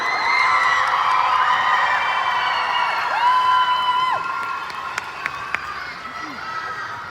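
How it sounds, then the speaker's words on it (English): Crowd at a Hmong New Year celebration in Milwaukee cheering and clapping as Varsity winners are announced, a steady noisy wash of voices and whoops with a few sharp claps standing out near the end. "Please give them a round of applause."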